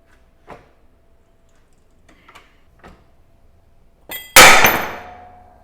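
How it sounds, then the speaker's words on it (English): Hydraulic press forcing dragline track roller parts out: a few faint knocks, then one loud sudden bang as a part breaks free, with ringing that fades. "let's move to the hydraulic press. Oh, it's going."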